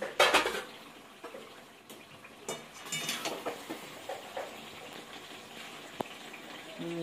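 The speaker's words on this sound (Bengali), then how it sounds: "ঢাকাটা উঠিয়ে দেখি এখন সিদ্ধ হয়েছে কিনা" A metal lid clatters loudly off a pot of simmering Punjabi-style chicken kosha, followed by lighter clinks of cookware and a soft bubbling in a quiet kitchen.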